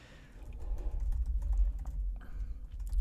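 Soft keystrokes on a computer keyboard as a password is entered, a scattered run of light clicks sitting over a steady low rumble, close but fairly quiet with no talking.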